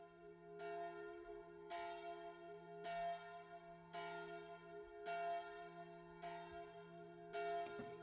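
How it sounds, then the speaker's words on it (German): Large church bells of Unterseen toll in a slow, steady rhythm on a Sunday, each strike ringing out and overlapping with a lingering hum, heard from a moderate distance. "Die großen Kirchenglocken von Unterseen läuten schon feierlich den Sonntag ein."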